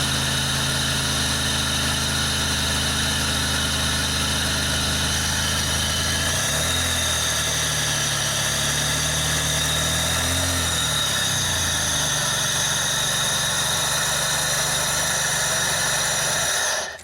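A 2000 Pontiac Grand Prix GTP engine idles steadily after fresh spark plug wires, a continuous low rumble with a smooth, even hum throughout, with no talking.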